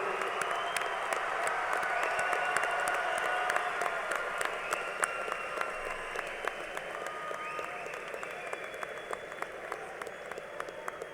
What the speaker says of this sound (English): how about one more round of applause for the Central High School class of